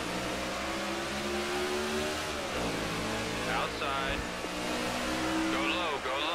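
Race car engine in the NASCAR The Game 2013 video game, a steady loud drone with a gear shift partway through, running continuously under a voice.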